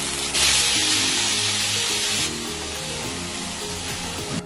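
Peeled shrimp dropped into a hot pan with garlic, a loud hissing sizzle that bursts up at once and then settles to a steadier fry, close by with no talking.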